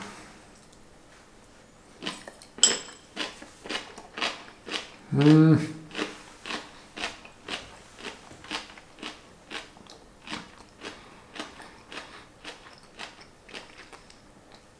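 Crunching bites of raw, spicy fermented sauerkraut, a close, crisp run of evenly spaced crunches that keeps a steady chewing rhythm throughout.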